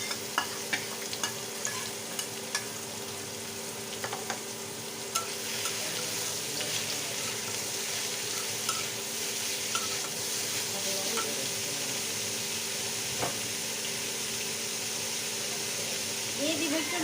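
Beetroot frying with lightly browned onions in a pan, stirred steadily; a continuous sizzle with scraping stir sounds, fairly close and moderately loud.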